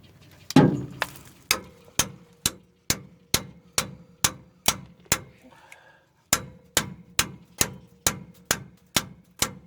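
A hammer strikes a seized, rusted brake pin on a Ford F-350 pickup during a roadside brake repair in the Arizona desert: about twenty sharp metallic blows in a steady rhythm, close and loud, with one brief pause midway.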